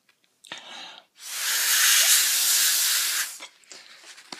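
A spray bottle mists a small home tree: a couple of faint short puffs, then one long, close, breathy spray hiss lasting about two seconds before it stops.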